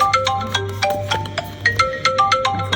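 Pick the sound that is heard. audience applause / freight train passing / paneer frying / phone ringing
phone ringing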